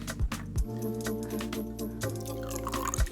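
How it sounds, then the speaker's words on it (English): Soy sauce poured into chicken stock, a close liquid trickle with small splashy drips and a few soft thumps, gurgling steadily for a few seconds. "I'm going to add some soy sauce"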